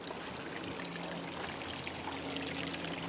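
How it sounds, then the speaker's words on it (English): Water trickles and splashes continuously from a small garden waterfall in a residential neighbourhood, a soft steady pouring wash with faint outdoor ambience and no talking. "I've seen a lot of houses with like mini waterfalls or ponds and stuff."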